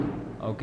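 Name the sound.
thunder from a rainstorm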